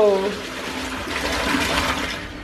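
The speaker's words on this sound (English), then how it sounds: "That's a cool flush." A toilet flushes in a public restroom in Lucerne, Switzerland, with a rushing, gurgling swirl of water that carries on steadily at close range, and a voice is heard briefly at the start.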